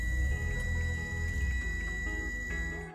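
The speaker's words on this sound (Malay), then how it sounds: "Setiap kali start kereta, dia perlu beep, ini bunyi." A Mitsubishi Xpander Plus seven-seat MPV gives a steady, high electronic warning tone at startup, held continuously over a low idling engine rumble, with no talking.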